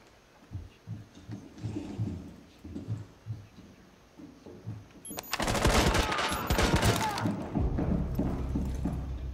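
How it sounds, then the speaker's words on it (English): Muffled footsteps and thuds give way to a loud sustained burst of rapid gunfire from Blackbeard shooting down from above in the video game Rainbow Six Siege, close and dense for several seconds. "Must be Blackbeard above shooting down."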